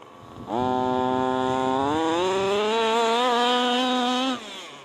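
An HPI Baja RC car's small gas engine, set running too lean, holds a high, buzzing whine close by, starting abruptly, rising slightly in pitch, sustaining for about four seconds, then cutting off.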